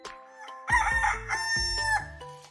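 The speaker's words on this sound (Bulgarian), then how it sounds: "един горд петел" A proud rooster crows as a sound effect in a children's story, one loud, clear cock-a-doodle-doo with a couple of rising and falling phrases, close and alone.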